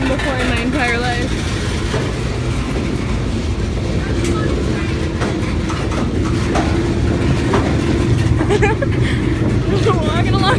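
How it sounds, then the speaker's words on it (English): A moving train rolling past at very close range, a loud continuous rumble and rattle of wagons going by as people walking alongside it talk. "I've never been this close to a moving train before in my entire life."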